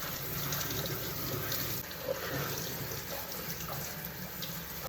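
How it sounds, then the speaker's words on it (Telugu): Hot tap water runs steadily into a kitchen sink while vegetables, including eggplant, are rinsed for baingan bharta, a continuous close splashing stream with no speech. "వెజిటేబుల్స్ని హాట్ వాటర్లో నీట్గా వాష్ చేసుకుందాం."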